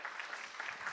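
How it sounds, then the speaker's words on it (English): Applause from a conference audience at a Scrum gathering, thanking a volunteer; steady, fairly faint clapping for about a second with no talk over it. "give a round of applause for our volunteer"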